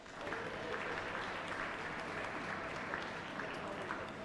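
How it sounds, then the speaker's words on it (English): Audience applause at a youth dairy cattle show for intermediate showmen, a steady, moderately distant wash of clapping that holds evenly throughout with no talking. "Give them a big round of applause"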